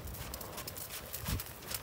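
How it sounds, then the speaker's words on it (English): Horse cantering in a riding arena during a lesson, hoofbeats soft and muffled under broad background noise, with a louder thud near the end. "Pick up your canter to the right."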